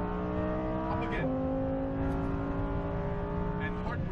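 A Lamborghini Huracan Performante engine pulling hard on track: a loud, close, rising tone, a sharp pitch drop at the upshift, then climbing again as it accelerates, with a voice talking over it.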